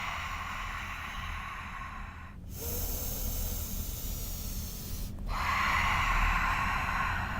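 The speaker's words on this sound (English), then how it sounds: "taking some nice long, deep breaths. Cleansing deep exhales." Slow, deep yoga breathing: long airy inhales and two forceful cleansing exhales that hiss out in bursts, close and quiet with no talking.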